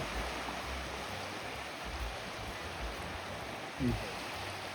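Steady broadband wash of sea waves rolling in at the shore at sunset, continuous and moderately loud, with a brief low thump near the end; no talking.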